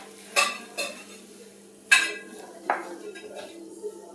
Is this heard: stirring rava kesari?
yes